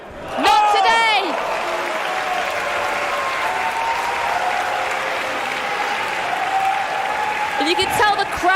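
Women's wrestling crowd at an EVE event breaking into loud, sustained applause that fills the arena, with brief commentary voices at the start and end.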